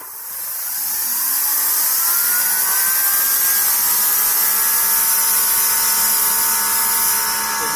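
A Greenworks Pro 2200 PSI pressure washer sprays steadily through its nozzle, a loud, close, continuous hiss and whir that swells in over the first second and holds unbroken.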